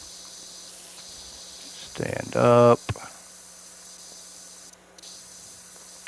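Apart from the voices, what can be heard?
pressure washer spraying in video game PowerWash Simulator 2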